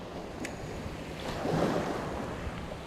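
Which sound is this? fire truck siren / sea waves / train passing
sea waves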